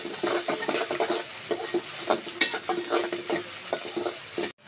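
Onions with salt fry soft in a pan, a close sizzle broken by frequent stirring scrapes and clinks of the spatula, ending abruptly, no voices.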